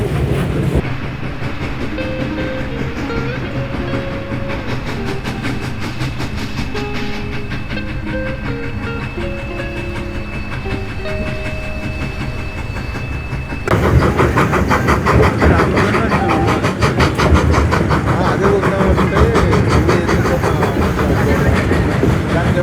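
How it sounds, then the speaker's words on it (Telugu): The Durango train rumbles along the rails, its steady clatter growing noticeably louder and rougher partway through, with a droning engine tone underneath. "అద్భుతంగా ఉంది కదా ట్రైన్"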